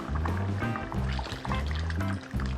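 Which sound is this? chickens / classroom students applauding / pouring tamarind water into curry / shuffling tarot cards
pouring tamarind water into curry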